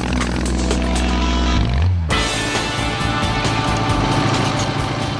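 A 1925 BMW R32 motorcycle engine runs steadily, a loud close mechanical drone that briefly dips and then resumes at an even, buzzing pitch.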